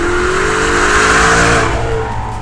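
A car engine revs hard and loud at close range, pitch climbing and dropping as quick gear changes snap through in a rapid sequence.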